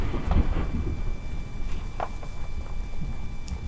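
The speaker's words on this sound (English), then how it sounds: "I'm doing this in a friggin' storm." Thunder rolls as a steady low rumble through an ongoing storm, with rain-like hiss and a few faint higher knocks, and no voices heard.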